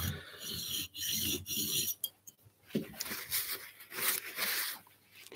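A garden pruning tool blade being cleaned and sharpened has its face rasped with a file in short, rhythmic strokes. Each scrape is close and fairly quiet, with brief pauses between passes and no talk.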